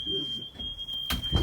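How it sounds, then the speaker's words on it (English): A smoke alarm sounds a steady high electronic tone while steak is cooked indoors, moderately loud over kitchen noise, with a sharp clatter near the end. "The fire alarm went off."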